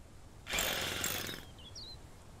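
A power tool runs in a single loud, roughly one-second mechanical burst, rattling like an impact wrench, as a mechanic works on a car in the survival video game Mist Survival; faint tones follow.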